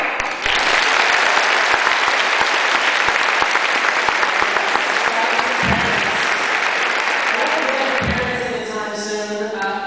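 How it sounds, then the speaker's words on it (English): Enthusiastic applause from a large graduation ceremony crowd, dense and sustained clapping that tapers slightly near the end. "how about a round of applause for your proud parents today?"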